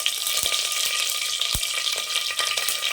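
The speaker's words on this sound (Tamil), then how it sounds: "கடுகு உளுத்தம் பருப்பு சேர்த்துக்கலாம். கருவேப்பிலை தழை சேர்த்துக்கலாம்." Mustard seeds, urad dal and curry leaves frying in hot oil in a cooker, a bright continuous crackling sizzle with a few sharp pops and clinks, close and steady, no talking.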